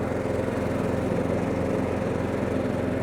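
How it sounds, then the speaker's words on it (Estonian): Riding lawn tractor engine running steadily while mowing around a tree, a loud, continuous near drone with a low rhythmic pulse and no talk. "ja ma saan ta ka tagurdada, et puu juurest täpsemalt niita"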